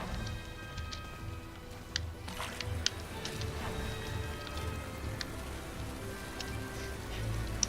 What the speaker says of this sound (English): can make it rain